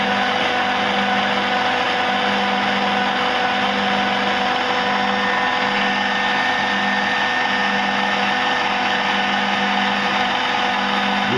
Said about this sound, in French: maintenant il faut laisser mélanger avec le robot jusqu'à ce que l'ensemble refroidisse